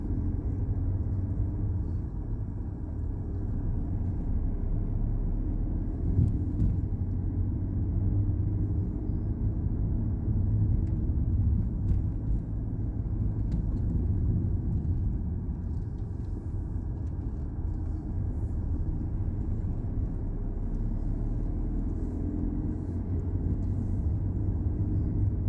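A driving-test car pulling away on a suburban test route, its steady low engine and road rumble continuous and even throughout, with no talking.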